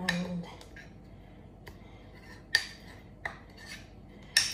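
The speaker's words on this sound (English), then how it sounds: "give it a really good mix" A spoon stirs chocolate overnight oats in a bowl, with soft scraping and several sharp clinks against the side, fairly close and without talk.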